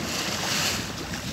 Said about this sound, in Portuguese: o vento vem mais duro